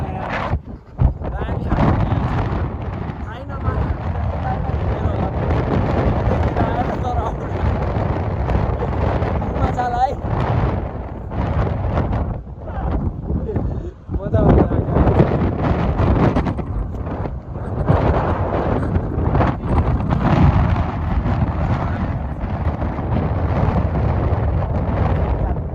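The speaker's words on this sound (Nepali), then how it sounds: "यहाँ त कस्तो औडा हावा चल्यो" Strong gusting wind buffets the microphone on a mountain trail on the way to Rara Lake, a loud, roaring, continuous rumble with a person talking under it throughout.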